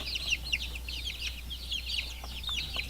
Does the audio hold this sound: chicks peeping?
yes